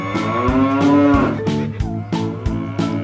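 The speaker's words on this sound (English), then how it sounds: "And here comes the Brahman bull" A Brahman bull gives a long, loud, deep moo up front, followed by steady rhythmic musical pulses underneath.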